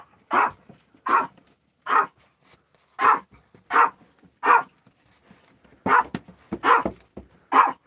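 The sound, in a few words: dog barking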